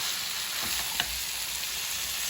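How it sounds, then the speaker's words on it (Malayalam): Chicken frying in tomato masala for a home-made chicken roast, a brief scrape and clack of stirring over a continuous close sizzle. "അതുപോലെ നമ്മളൊന്ന് ഇളക്കി കൊടുക്കണം."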